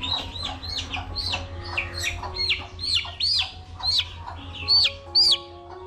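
Black chickens with dark faces keep up a close run of rapid chirps and soft clucks, short peeping calls repeating about every half second against a low background hum.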